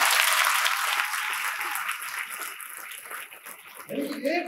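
An audience claps loudly at first, a dense patter that gradually thins. A voice cuts in near the end.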